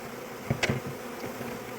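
Honey bees buzzing around a box being emptied into a hive outdoors, faint and steady, with a few brief louder passes of insects close by.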